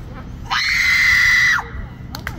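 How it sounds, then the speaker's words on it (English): A loud, sustained human scream rings out alone for about a second, steady and piercing, cutting off abruptly, with quiet room murmur before and after. "let's hear the scream."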